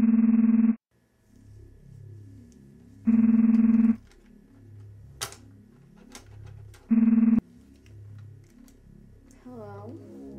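A home telephone heard down the line rings in long buzzing bursts separated by pauses, three rings in all, with low background sounds between them and a faint voice toward the end.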